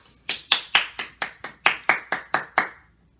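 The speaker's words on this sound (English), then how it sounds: "Clap for a good book." About eleven sharp, evenly spaced hand claps from children after a storybook reading, close and clear with short silent gaps between them.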